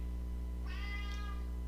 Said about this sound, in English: my cat's being loud